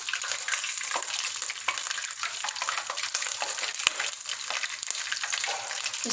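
Chicken samosas deep frying in hot oil, a continuous close bubbling sizzle with scattered crackles and pops, steady throughout with no one talking.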